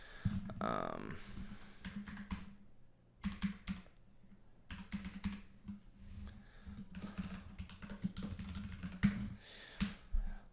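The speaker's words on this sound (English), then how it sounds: "this is where you will type in all of this information" Typing on a computer keyboard, with bursts of quick close clicks separated by short pauses and one brief low-level voice early on.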